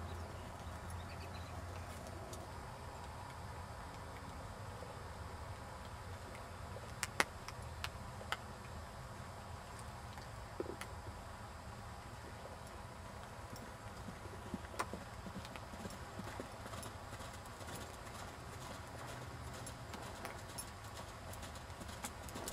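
A horse walking during a riding lesson, its hooves giving faint, steady clip-clop beats with occasional sharper knocks against a quiet, constant background.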